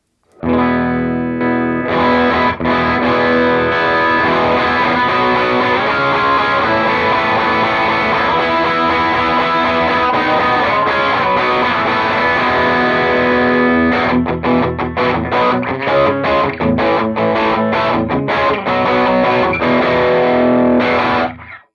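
Electric guitar driven through a stacked Revv Tilt Overdrive and a trebly boost, playing a dense, heavily distorted passage that rings loud and sustained throughout with no talking.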